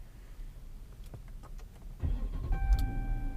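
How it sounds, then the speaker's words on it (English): A 2014 Chrysler 300 SRT fired up with its dashboard start-stop button: a quiet cabin with a few soft clicks, then the engine catches and settles into a steady, close idle. "let's not wait any longer and start this vehicle"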